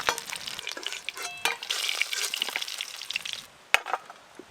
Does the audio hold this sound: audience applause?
no